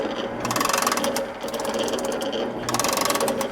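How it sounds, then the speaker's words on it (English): Morey vertical shaper ram running with its ratchet feed mechanism, giving a rapid mechanical clatter that swells into two bursts of ticking pawl clicks, close and fairly quiet. "I'll go ahead and engage the spindle, or the ram. And you can see how the ratchet mechanism works."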